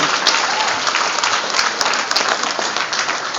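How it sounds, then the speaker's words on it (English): Wedding guests at a reception break into applause for the parents during the best man's speech, a loud, dense patter of clapping that holds steady throughout. "I definitely think they all deserve a very big round of applause."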